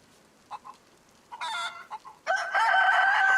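A rooster in the DayZ video game clucks a few short times, then crows loudly and close in a drawn-out cock-a-doodle-doo with no talk over it.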